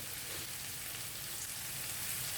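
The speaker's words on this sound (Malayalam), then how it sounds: "ഇനിയിപ്പോൾ നമുക്ക് ആ സമയം കൊണ്ട് ഒരു 5 മിനിറ്റ് കൊണ്ട് ഈ സവാള നല്ല ബ്രൗൺ ആക്കി എടുക്കാം." Chopped onion frying in a pan for a breadfruit stir fry, a steady, even sizzle that holds throughout with no talking.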